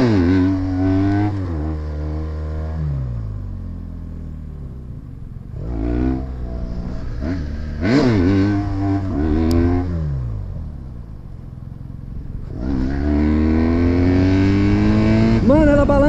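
A BMW 1200 motorcycle engine revs up and down several times nearby, its pitch climbing and dropping, with a brief lull between bursts.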